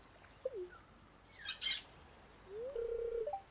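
A bird in the video game Stardew Valley gives a short falling chirp, then a quick bright burst of notes, and finally a longer, louder squawking call, all against quiet background.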